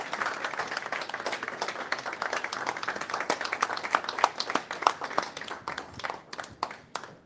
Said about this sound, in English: give you a little hand of applause